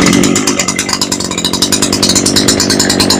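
Two-stroke engine of an ECHO SRM 520 brush cutter made in Japan, running steadily at a loud, buzzing idle close by with a rough, rattling chug and no voices.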